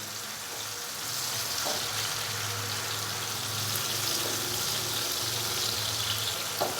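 Finely chopped tomatoes and green chillies frying in oil, a steady close sizzle and crackle that swells slightly after the first second and continues evenly, with no talk.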